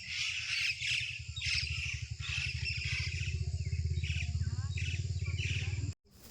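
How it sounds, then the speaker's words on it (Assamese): Birds squawk repeatedly outdoors beside a road during a weekend outing, with a pulsing low engine rumble running underneath throughout. "চৰাই চিৰিকটিবোৰ চাই মেলি।"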